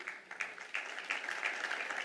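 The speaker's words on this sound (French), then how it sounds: "On va vous applaudir pour vous encourager." Scattered, fairly faint applause from a conference audience, claps building a little over two seconds.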